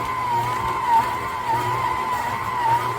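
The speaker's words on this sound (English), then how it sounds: "with the well-developed dough, it definitely stresses out the motor a bit more, the gears" A 660 W, 6.5-quart Kitchen in the box electric stand mixer works heavy, well-developed dough, and its strained motor and gears make a steady whining hum with slight wavering pitch, close and continuous.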